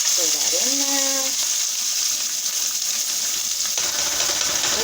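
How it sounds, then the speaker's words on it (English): Peppers, onion and garlic hitting hot oil for rice and beans, a loud bright sizzle filling the whole stretch while someone speaks briefly at the start. "next thing I'm going to add is my peppers, onion, and garlic. Go ahead, throw that in there"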